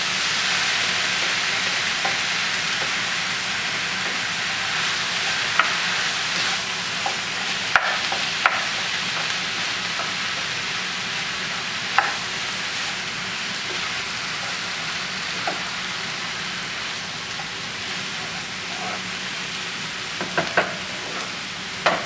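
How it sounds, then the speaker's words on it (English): Ground beef frying in a pan, a dense steady sizzle with occasional pops and light clicks of stirring, close and loud throughout, no voices. "I'll let the ground beef cook down a little bit and then I'll come back and break it up"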